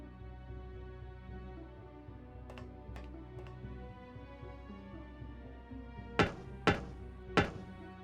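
In the video game Simon the Sorcerer, three soft ticks over a steady low hum, then three heavier, dull knocks spaced evenly on a faulty pipe.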